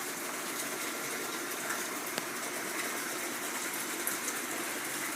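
Water gushes steadily into an aquaponics water tank, a constant loud rushing pour that continues without a break and is heard alone.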